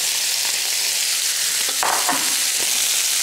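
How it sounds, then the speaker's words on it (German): Steady sizzle of celery frying in a pan fills the clip, with a few soft scraping stirs partway through. "Und den Staudensellerie braten wir jetzt einmal ein bisschen an."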